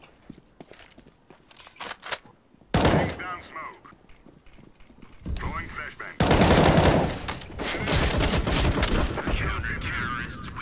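Gunfire in the video game CS:GO: rapid automatic bursts and single shots crack close and loud, some bursts long and sustained, with a player talking faintly between them.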